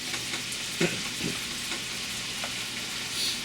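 Pork belly frying in a skillet, a steady soft sizzle with a few faint clicks of a spatula spreading the meat across the pan, moderately close and without any voices.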